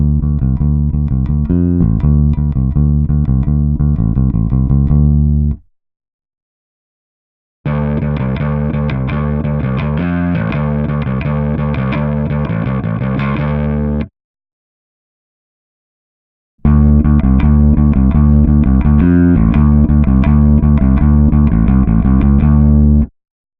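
Electric guitar played through a Kemper Profiler parallel path, blending a clean direct sound with a distorted amp; three bursts of playing separated by short silences, loud and close with no talk.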